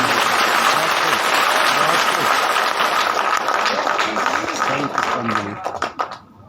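Sustained crowd applause from an audience at a Hindi poetry recital, loud and dense throughout before thinning and tapering off near the end, with voices mixed in.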